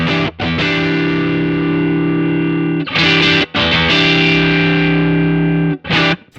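Electric guitar on its neck pickup running through a Tech 21 SansAmp PSA 2.0 preamp, loud and distorted, with long sustained chords broken by short pauses and fresh strums, played alone.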